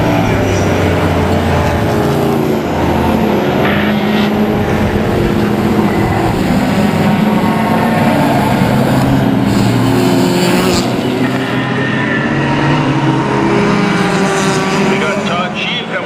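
Race cars, including a BMW, lapping the track at Mission Raceway in a closed-wheel race, a steady loud engine roar with passing drones throughout, with a commentator talking over it.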